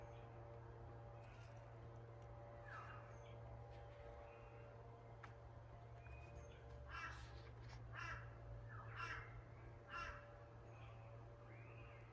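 Several crows caw in short harsh bursts, some distant and some closer, over a steady low hum and background hiss.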